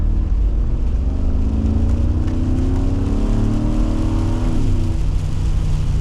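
A 2018 Mercedes-Benz G63 AMG G-Wagon engine heard from inside while driving, a deep steady rumble with rising harmonics as it accelerates and then eases off, close and continuous with no talk.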